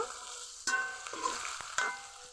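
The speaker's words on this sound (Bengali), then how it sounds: "এখন তেলের মধ্যে দিয়ে দিব পেঁয়াজ কুচি, দিব গাজর কুচি, টমেটো কুচি, কাঁচামরিচ কুচি। কিছুক্ষণ ভেজে নিব।" Chopped onion, carrot, tomato and green chili sizzle in hot oil for homemade noodles, a close, steady frying hiss broken by several sharp stirring scrapes.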